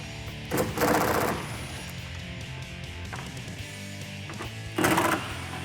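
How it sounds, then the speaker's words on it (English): Impact gun spinning out 8mm bolts from an F-150 taillight, two loud rattling bursts near the start and end over a low shop background. "I'm going to use an impact gun, but a ratchet does the trick as well."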